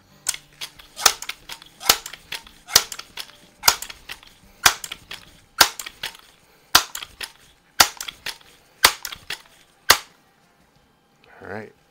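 A repaired Crosman 2200 Magnum .22 caliber pump air rifle fires a series of about fourteen sharp, loud cracks at fairly even intervals, each followed by faint mechanical clatter, before a brief voice at the end.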